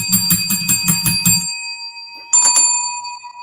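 A hotel-style desk bell rings in two bursts: a run of about six quick strikes that ends around the halfway point, then after a short pause a second shorter cluster. Each strike leaves a bright, sustained ring.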